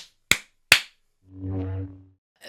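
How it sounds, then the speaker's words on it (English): Two sharp, close hand claps about half a second apart, followed by a short tonal hum, then the start of a third clap at the end. "You better do your clappy claps right now."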